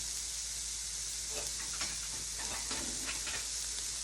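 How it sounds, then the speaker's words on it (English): Steady, close sizzling of food sautéing in a hot pan while making beer-based barbecue sauce, a constant hiss broken by small crackles and pops. "Hear the sizzle."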